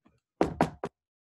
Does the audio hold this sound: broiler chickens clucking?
no